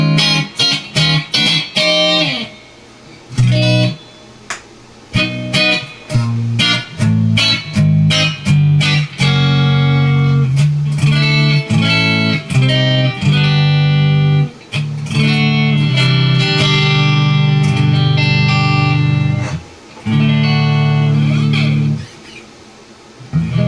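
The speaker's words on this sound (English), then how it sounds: "Now you can hear the reverb." Electric guitar played through a Carvin Quad X amplifier with reverb, busy chords and single notes ringing with a shimmering wash, loud and continuous with brief gaps.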